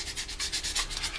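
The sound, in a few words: sanding block rubbing over model aircraft wing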